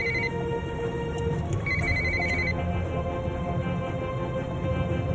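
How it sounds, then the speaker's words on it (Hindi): A telephone ringtone chirps in a few short tonal bursts inside a dubbed Turkish drama scene, sitting over a steady, dense bed of background music and room ambience, with no talking. "किसका फोन आ गया?"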